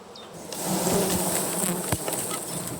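A honeybee swarm buzzes among hive frames that lack foundation wax, a dense, steady, close drone that swells slightly and holds throughout with no voices.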